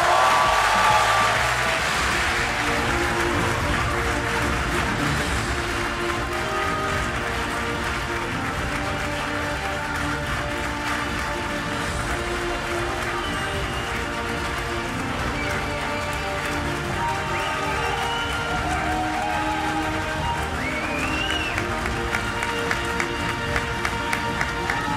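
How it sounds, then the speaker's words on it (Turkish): Sustained, dense applause from a large audience at an awards ceremony honouring the Turkish women's national volleyball team, a continuous roar of clapping with music or tones underneath. "voleybol takımımız için bir alkış rica ediyorum"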